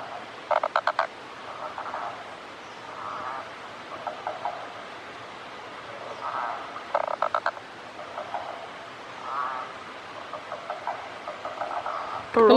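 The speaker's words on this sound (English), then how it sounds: "But this is a Flay's barred frog." Repeated short bursts of rapid Fleay's barred frog calls near a rainforest waterfall, each a quick train of clicking notes, with softer croaks in between against a quiet outdoor background.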